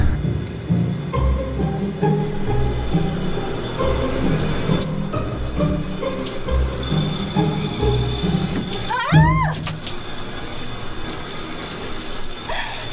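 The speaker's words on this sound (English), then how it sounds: "she is in the shower." Shower running in a bathroom, steady spraying and splashing water with shifting tones and a brief squeaky burst partway through.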